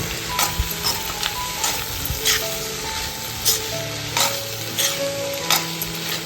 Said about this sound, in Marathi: इकडे तर सर्व पडवलची भाजी घालून घेते सर्व व्यवस्थित मिक्स करून घेते